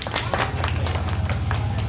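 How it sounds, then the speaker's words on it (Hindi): An audience applauding a trade union activist at a gathering, dense continuous clapping from many hands, loud and sustained throughout. "इसलिए इनके लिए ताली हो जाए जोरदार।"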